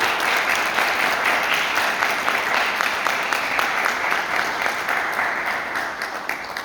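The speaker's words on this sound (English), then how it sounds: "So we give all of them a round of applause." Sustained, dense applause from a theatre awards audience honouring students fills the room at steady volume, tapering slightly toward the end with no talk over it.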